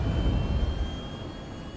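An Anvil Aerospace spaceship in Star Citizen lifts off with its landing gear raised. A steady, low engine rumble lies under a thin, constant high whine, moderately quiet and fading slightly.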